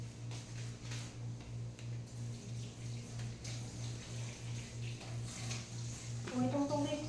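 Water runs steadily from a tap, a continuous hiss with a regular pulsing hum underneath, fairly close; a voice starts speaking near the end.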